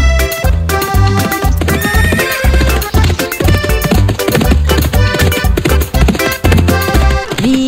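A Percheron horse neighs and whinnies over a loud, upbeat children's farm song with steady drums and bright melody, the animal cries mixed into the music rather than heard alone.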